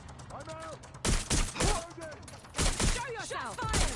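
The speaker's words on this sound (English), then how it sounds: "Shots fired! Gunfire!" Gunfire in the video game Watch Dogs Legion: several sharp, loud bursts of shots in quick succession, mixed with a voice calling out between them.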